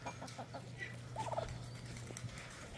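Turkeys gobbling outdoors in cold, rainy weather, a short burst of warbling gobbles in the middle over a steady low hum and background noise.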